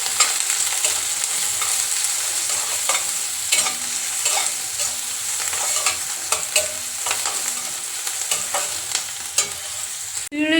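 Onions frying in a pan for a home-style potato curry, a steady close sizzle broken by repeated scraping clicks of stirring throughout.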